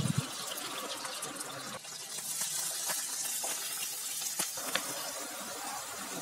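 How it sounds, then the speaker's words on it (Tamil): Sliced potatoes going into hot oil for a simple Tamil-style potato fry, giving a steady, soft hiss and sizzle with scattered small crackles and pops throughout, fairly close and moderately quiet. "ஆயில் ஹீட் ஆகிடுச்சு மெதுவாக பார்த்து ஆட் பண்ணுங்க"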